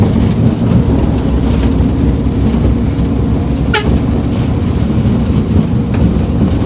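Steady, dense rain hiss in Oriental Mindoro, Philippines, fills the whole stretch without pause, with a brief sharp tone cutting through near the end.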